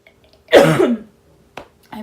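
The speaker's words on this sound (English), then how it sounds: "been coughing ever since I had surgery" A single harsh cough from someone recovering after gastric bypass surgery, followed by a couple of faint throat sounds in an otherwise quiet room.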